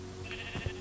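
A sheep in the Minecraft video game gives a short, quiet bleat over a steady background hum, with no talk over it.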